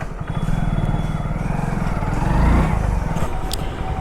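A motorcycle on a parcel delivery ride drones steadily up close, its engine swelling briefly midway before settling back to a constant running hum.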